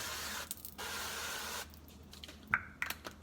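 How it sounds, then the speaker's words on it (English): Two short hissing sprays of avocado oil from an aerosol can onto a waffle maker, fairly quiet, followed by faint clicks and light handling sounds. "We're gonna spray. I got some avocado oil."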